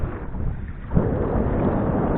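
Steady wind buffeting a microphone outdoors while fishing in Sydney, a low rumbling roar that thickens after a brief lull, with no voices.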